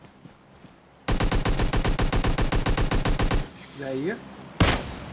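Bursts of automatic gunfire in the PUBG Mobile battle royale game rattle off in a loud, fast rhythmic volley, then stop; a player speaks briefly, and a sharp single shot follows.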